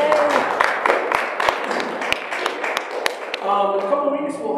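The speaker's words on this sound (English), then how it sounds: "Now, that should get a round of applause right there." A church congregation applauds at a Lutheran worship service, with scattered, uneven claps that fill the first few seconds before fading under a voice and tonal sounds.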